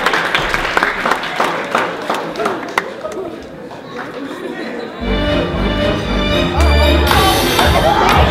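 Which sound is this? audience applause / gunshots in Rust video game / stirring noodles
audience applause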